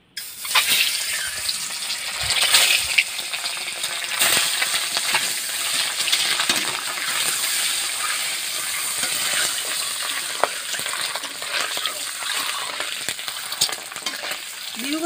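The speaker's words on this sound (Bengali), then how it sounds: "এবার এবার ডিমগুলো হালকা করে ভেজে নেব।" Village-style desi chicken eggs frying lightly in oil in a pan for egg korma, a steady close sizzle with occasional clinks and stirring scrapes, no talk.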